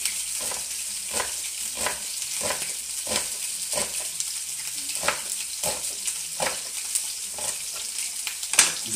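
Chicken frying in a hot pan for a poultry salad with balsamic vinegar, a steady close sizzle with rhythmic spattering pops and stirring scrapes throughout, no voices.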